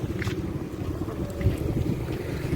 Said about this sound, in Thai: ลมมาแล้วขนาดนี้นะลมมาแล้ว